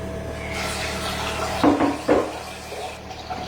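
Water runs steadily into a cooking pot while agidi is being prepared, a continuous close pouring hiss with a couple of louder splashing surges midway and no talk.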